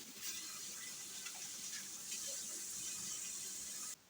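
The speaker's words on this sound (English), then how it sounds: "I'm going to wash my hands." Tap water runs into a kitchen sink during handwashing while a meatloaf is being made, a soft, steady splashing hiss that continues evenly for about four seconds and then cuts off abruptly.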